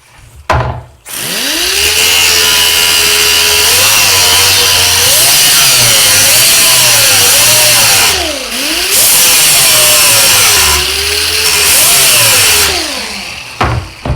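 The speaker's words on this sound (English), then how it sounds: "So I'm just going to take a grinder and just gently grind off that edge." An angle grinder gently grinds the edges off wooden stars for a rustic American flag shaped like the USA, a loud continuous whine rising and dipping in pitch for about thirteen seconds, with a brief pause midway.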